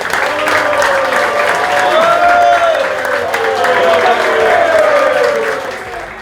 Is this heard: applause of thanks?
yes